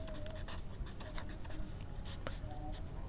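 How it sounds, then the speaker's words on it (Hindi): Pen or chalk writing on a board or paper during a Class 10 maths lesson, a steady scratching with short strokes running throughout at moderate level, with no speech. "तो देखते हैं, यहाँ लिखेंगे"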